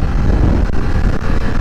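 BMW F900R motorcycle riding at speed, a steady loud roar of engine mixed with heavy wind rush on the microphone, continuous with no talk.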